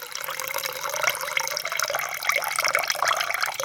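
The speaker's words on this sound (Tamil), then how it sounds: "நல்லா பிணைஞ்சு விட்டு அலம்பி நல்லா வடிகட்டிக்குவோம்." Flattened rice (aval) being washed and drained, a continuous close splashing and trickling of water with small drips throughout.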